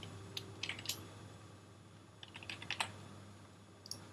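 Several quick bursts of keystrokes on a Mac computer keyboard while a folder name is entered, soft close clicks in short clusters over a quiet room hum.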